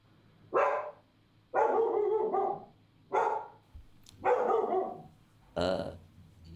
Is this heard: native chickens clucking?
no